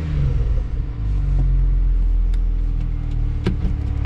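A BMW 335xi with the N54 turbocharged engine, built for 600 horsepower and running on ethanol, idles with a steady, loud low rumble that holds evenly throughout, with a few faint clicks and ticks on top.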